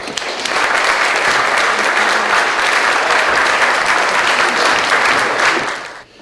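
Audience giving loud, sustained applause for Dr. Nick Begich, a thick burst of clapping that starts abruptly, holds steady for about six seconds and then drops off sharply.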